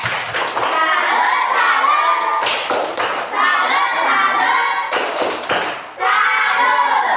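Children perform a rhythmic clapping chant, the tepuk salut, in three bursts of unison claps and thumps separated by sung or shouted voices, loud and close in a classroom-like setting.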